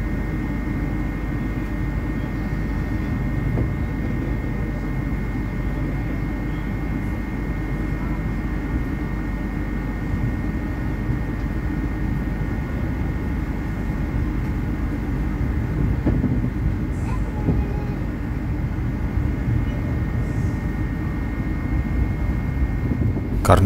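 Interior of the KA Lodaya passenger train in motion, a loud continuous low rumble and hum with a faint steady tone above it, unbroken for the whole stretch.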